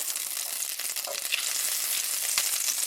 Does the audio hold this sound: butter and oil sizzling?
yes